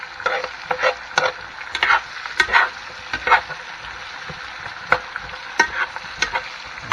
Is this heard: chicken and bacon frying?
yes